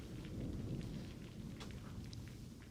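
Rain and thunder ambience plays as a low, distant rumble beneath a soft, continuous rain hiss, quiet and even in level across a tabletop RPG session, with no talking.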